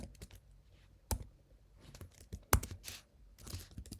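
Sparse, quiet clicks and taps of keys being pressed at an irregular pace, with a couple of sharper key strikes.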